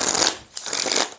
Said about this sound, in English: Let's try and do a riffle shuffle.